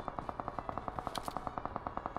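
An M16A4 rifle firing a long rapid burst in the video game PUBG Mobile, with evenly spaced shots at a steady rhythm that sound moderately distant, with no talking.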